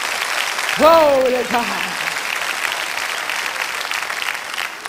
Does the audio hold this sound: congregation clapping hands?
yes